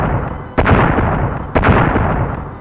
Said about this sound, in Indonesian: Suara ledakan petir berulang kali bergema di langit